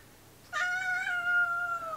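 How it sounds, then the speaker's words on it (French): A single drawn-out cat meow, clear and close, rising then sliding down in pitch over about a second and a half against a quiet room. "on a le chat qui miaule"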